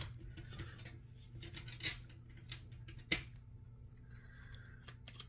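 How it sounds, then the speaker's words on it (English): Crisp riffling and slapping of a tarot clearing deck being shuffled by hand, close up, with a few sharp card snaps and soft rubbing between them. "I'm going to shuffle this"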